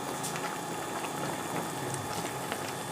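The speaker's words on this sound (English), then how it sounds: "Once water is boiling, add your pasta of choice." A pot of water boils with pasta in it, giving a steady close bubbling and rumbling simmer without any voices.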